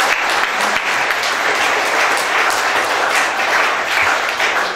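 A lecture audience claps and applauds steadily, a dense, even wash of hand claps from many people that continues throughout.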